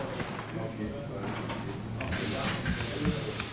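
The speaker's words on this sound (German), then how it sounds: "Und dann schieben Sie das 12 Meter lange Segel rüber zur Nähmaschine." An industrial sewing machine stitches a long seam in a 12-metre sail in a sail loft, giving a steady mechanical whir and clatter with louder knocks and fabric handling noises partway through.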